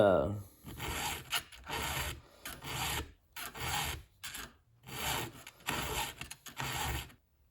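A hand file rasps across a Holzfforma chainsaw chain in a series of about nine close, loud strokes, each a short gritty scrape separated by brief pauses.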